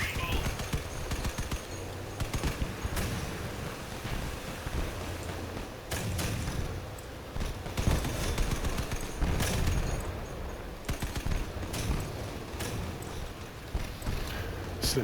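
Gunfire from bot-driven vehicles in the combat game Crossout, with repeated bursts and sharp rattling volleys throughout, some close and loud, others thinner and more distant.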